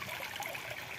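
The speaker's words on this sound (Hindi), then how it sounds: "ये पानी है, और ये यहाँ से उधर से आ रहा है अंदर से।" Water flows at a hidden waterfall near Jaipur, a brief, soft, steady rushing and trickling heard close by with no speech.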